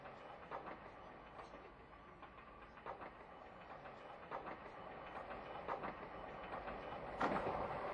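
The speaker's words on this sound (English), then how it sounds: "express train is passing." An express train passing a station, heard as a fairly faint, continuous rolling rumble with repeated clickety-clack wheel beats and a slightly louder burst toward the end.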